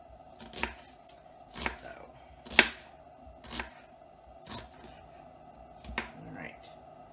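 Knife chopping red onions on a cutting board, about seven separate, fairly quiet chops spaced unevenly, with a person speaking briefly under them.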